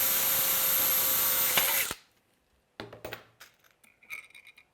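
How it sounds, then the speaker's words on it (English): A power drill bores a hole straight through a metal arm structure, whining loudly and steadily for about two seconds before cutting off, followed by a few light clicks and taps of handling nearby. "And we'll drill that hole in."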